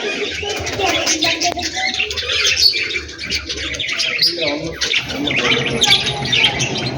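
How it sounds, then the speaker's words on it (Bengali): Many caged birds at Omkareswar temple in Puri chirp and tweet together in a busy, continuous chorus, fairly close, with scattered voices and crowd murmur in the background. "ওমকারেশ্বর মন্দিরের মধ্যে পাখির পাখির খাঁচা আছে"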